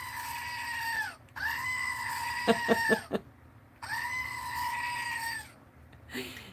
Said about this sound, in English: Screaming goat always wins.